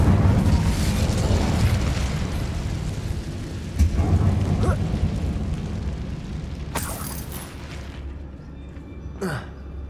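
Incendio fire spell cast in Hogwarts Legacy inside an abandoned mine, a dense whooshing burst of flame with booming rumble that tapers off, followed by a few sharp crackles and pops, no talk over it.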